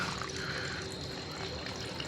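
Water trickles and runs steadily inside a flooded house where a tap was left on, a faint, even wash of liquid with no voices.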